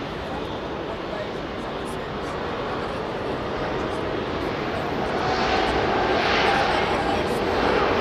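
Airbus Beluga XL departing Heathrow Airport, a loud broadband engine roar that builds steadily toward the end, with voices talking over it.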